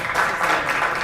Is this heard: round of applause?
yes